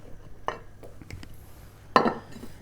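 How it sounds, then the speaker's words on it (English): A spoon stirs beef and carrot hotpot in a casserole pot, giving two distinct clinks against the pot amid faint, quiet scraping. "And then we just stir that all through."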